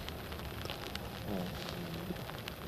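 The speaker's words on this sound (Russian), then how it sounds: "А сверху еще дождик противный такой подкапывает" Light, warm summer rain drips and patters steadily around a fishing spot, with a continuous soft hiss of drops and a brief low creak partway through.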